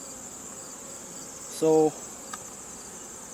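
Honeybees hum steadily around an open hive during an inspection, a faint continuous drone with a brief louder buzz passing close by partway through; one short spoken word.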